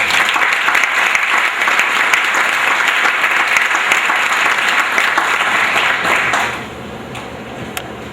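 Loud, sustained applause from a crowd at a school sports banquet, steady clapping that fades abruptly near the end into quiet room sound with a few stray claps.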